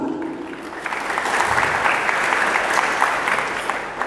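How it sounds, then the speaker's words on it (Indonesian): A church congregation claps loudly in praise of God, a dense sustained burst of many hands that builds and stays strong throughout. "Itu tepuk tangan untuk Tuhan."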